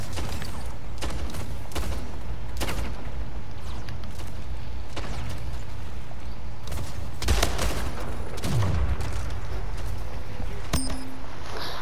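Gunfire in a PlayStation 4 video game: scattered single shots and short bursts ring out at irregular intervals over a steady background din, with no speech.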